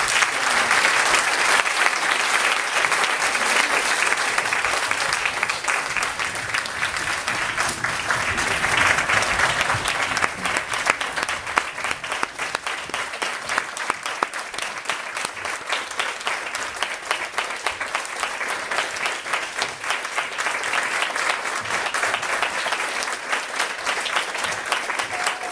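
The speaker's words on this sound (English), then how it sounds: "So let's please have a round of applause." Audience at a Stanford lecture applauding at the end of a talk, dense sustained clapping from a large room that holds steady for about twenty-five seconds, no voices over it.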